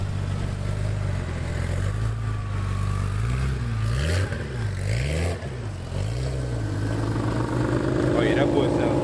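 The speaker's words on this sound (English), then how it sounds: "Pretty nice Porsches right here rolling in." Porsche sports cars roll in at a car event, their engines and exhausts rumbling close by with rising and falling revs, under someone talking throughout.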